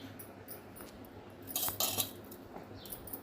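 Dry rice grains are poured into the steel jar of a mixie mixer grinder, a brief rattling, clinking rush that swells in the middle of the clip, with faint clinks before and after.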